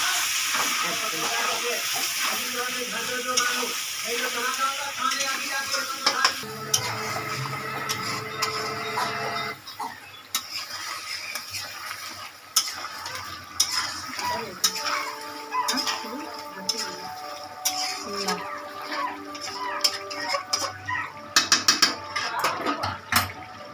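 Chicken korma masala is stir-fried in a pan, with a steady sizzle broken by scraping and clanking of a spatula against the pan and some talking partway through.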